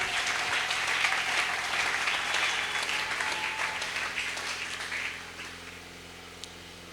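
A church congregation applauds loudly and continuously for about five seconds, the dense clapping of a large crowd, which then fades into a quieter room tone.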